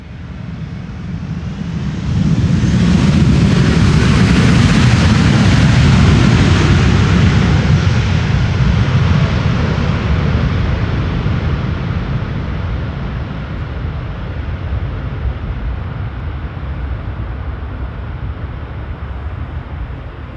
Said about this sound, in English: Reversers definitely activated on the Delta A330.